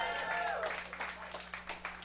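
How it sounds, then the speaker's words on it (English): Audience clapping at a stand-up comedy show, a ragged patter of claps at moderate distance with a whoop near the start, continuing steadily under the room's noise. "Clap if you're doing dabs tonight."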